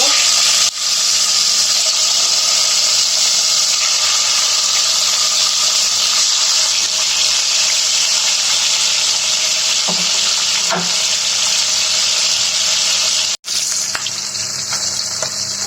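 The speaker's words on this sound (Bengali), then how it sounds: "তেল গরম হয়ে গেছে, আমি মাছটা দিয়ে দিব।" Fish frying in hot oil in a pan, a loud steady sizzle filling the whole stretch with a few faint clicks and a brief dropout near the end.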